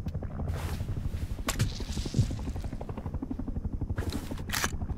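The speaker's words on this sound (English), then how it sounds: "What was that attack helicopter doing?" Attack helicopter in the survival game Rust, its rotor chopping in a steady rapid pulse at a middle distance, joined by a few brief sharp knocks and bursts of hiss.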